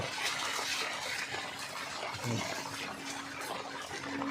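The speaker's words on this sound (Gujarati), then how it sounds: "વરસાદ ચાલુ છે" Rain falls steadily in rural Gujarat, a soft, even hiss of water that stays faint and uniform throughout, with no voices.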